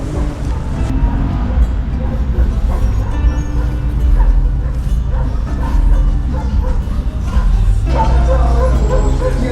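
Dogs bark repeatedly and loudly close by in the street in Gyumri, Armenia, with sharp yips and woofs over a continuous rumbling background.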